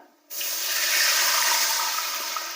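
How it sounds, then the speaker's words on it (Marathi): Water pours steadily into a hot pan of poha and white sesame seeds, a broad hissing rush starting abruptly after a short quiet moment and continuing loud and close. "एक वाटी पाणी ओतायचं"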